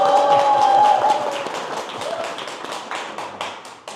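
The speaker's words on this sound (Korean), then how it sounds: "박수 좀 쳐주세요." A group clapping inside a campaign office for a parliamentary hopeful, a dense burst of applause that starts strong and gradually thins out, with a steady tone and some faint voices underneath.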